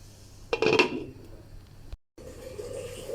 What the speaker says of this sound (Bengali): ভালো করে সিদ্ধ হওয়ার জন্য ঢাকনা দিয়ে দিলাম